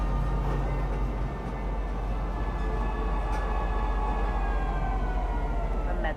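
A metro train in the space game Star Citizen pulls into a spaceport station with a loud, continuous close rumble, thin squealing tones sliding over the top, and a brief higher screech near the end.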